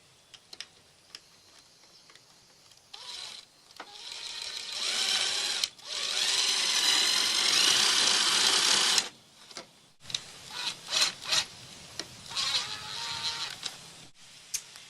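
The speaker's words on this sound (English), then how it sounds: "Use an 1/8 inch drill bit." A power drill with a 1/8 inch bit whirs in two sustained bursts, several seconds each, separated by short pauses and light clicking handling noises, close by.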